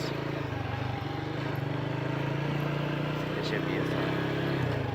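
A motorcycle with electric start pulls away slowly in first gear during a beginner riding lesson, its steady low engine drone close and continuous while someone talks over it.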